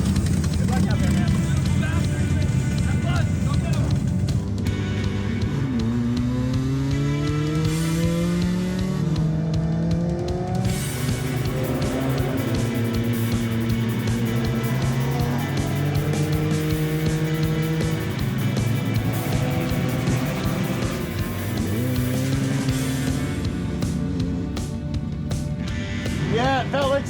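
A race car engine runs steadily at a 24 Hours of Lemons endurance race, a car on its fourth head gasket, with loud continuous revving and pitch sweeps throughout and voices talking over it.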